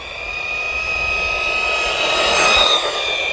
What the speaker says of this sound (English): It's the loudest brushless motor I've ever heard.